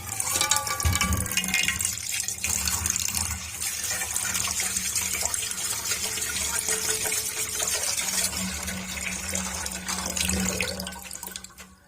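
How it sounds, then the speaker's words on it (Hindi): Water runs and splashes steadily into a vessel of lentils being washed, a continuous close pouring sound with some sloshing and no talking. "पानी अब ये निकाल देंगे ऐसे, और पानी ऐड करेंगे"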